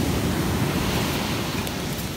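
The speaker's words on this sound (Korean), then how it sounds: "파도 너무 좋다" Ocean waves break steadily on the East Sea shore at dawn, a continuous loud wash of surf with wind noise across the microphone and no voices.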